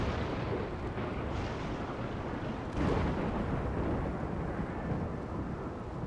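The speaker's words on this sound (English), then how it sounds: "Rainy thunderstorm." Thunder rumbling through a rainy thunderstorm in RimWorld, a deep rolling boom peaking near the middle over steady rain hiss, moderately loud with no voices.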